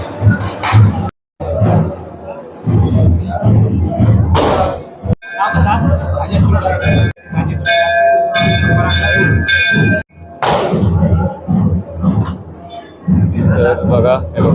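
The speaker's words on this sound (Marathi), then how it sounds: "घंटा तर वाजव करू." A bell rings inside the sanctum of the Bhavai Devi temple in the Konkan, with bright ringing tones and clangs amid crowd noise, thumps and people talking nearby.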